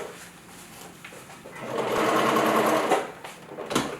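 A sewing machine runs a 5/8 inch seam down bolster fabric, starting softly and building to a steady, loud whir before slowing and stopping.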